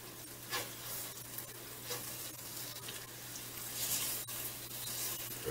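Eggs fry in a cast iron pan with a soft, continuous sizzle while a spatula scrapes under them in short strokes. The sound is faint and close, with no voices.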